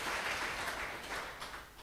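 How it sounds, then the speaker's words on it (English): A school reunion crowd gives the headmaster of Baite school a broad, soft wash of clapping from many hands, somewhat distant and faint, fading slightly toward the end. "A very big applause for the headmaster of this Baite school"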